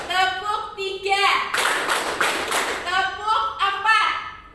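A class of children claps hands together in a counted rhythm in a classroom, with bursts of sharp claps between chanted counting voices.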